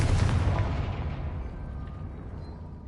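Confringo fire spell blast in the Hogwarts Legacy video game: a single loud booming explosion at the start that fades into a long decaying rumble.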